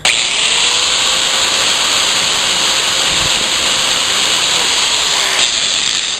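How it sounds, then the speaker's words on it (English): A grinder works down welds on a Corvair idler wrench, a loud, steady rushing whine with a motor tone that drifts slightly in pitch before cutting off at the end. "I've already ground down the welds, but it's a noisy operation."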